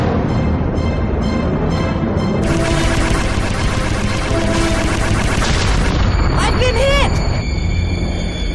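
Weapons fire and explosions from an animated sci-fi series form a loud, continuous barrage of blasts and rumbling booms, with a sweeping whoosh rising near the end.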